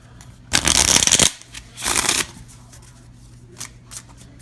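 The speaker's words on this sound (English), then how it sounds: "Yes, there is lots and lots and lots and lots of shuffling." Playing cards for the Onirim card game are riffle-shuffled in two quick, crisp bursts close by, the first longer than the second, followed by soft handling clicks in a quiet room.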